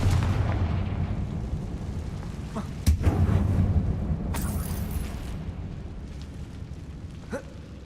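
Confringo fire spell explodes in the Hogwarts Legacy video game inside a closed mine, a loud rumbling blast with a sharp crack near the three-second mark and a long roaring tail, with no talking.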